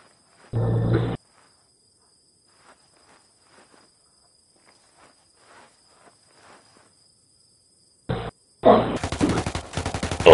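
Bursts of gunfire in Ghost Recon Wildlands, a 4v4 match: one short burst near the start, then near silence with faint clicks, then dense, louder volleys in the last two seconds, with no talk in between.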